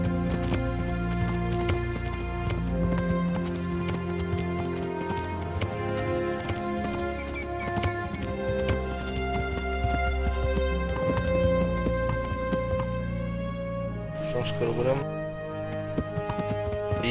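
Horse hooves clip-clop at a gallop in the video game EsCaper, running steadily beneath a loud bed of tonal game music that carries on throughout.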